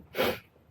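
A single short, breathy human sneeze, close and fairly loud, bursting out and fading within a moment in a quiet room.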